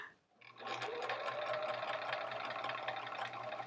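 A sewing machine stitches quilt borders in a steady, fast run after a short pause, its rapid mechanical whir and needle chatter close and continuous.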